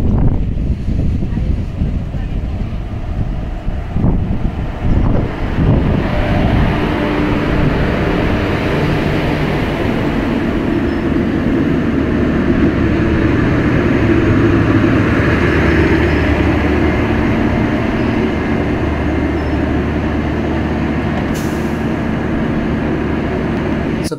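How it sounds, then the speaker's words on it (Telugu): The Aurangabad–Guntur Express rolls into Ullindakonda station between Dhone and Kurnool, a steady heavy rumble and wind buffeting throughout, loud and close, with a brief high squeal near the end. "సో ఫ్రెండ్ వచ్చేసి ట్రైన్ ఉల్లిందకొండ స్టేషన్కి అయితే ఎంటర్ అవుతుంది."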